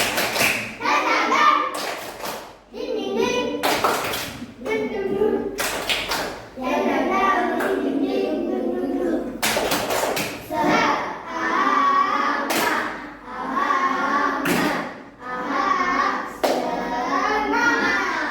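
A group of fourth-grade primary school children in a classroom do a spirit clap, clapping in a repeated rhythmic pattern, sharp synchronized claps alternating with chanted voices throughout.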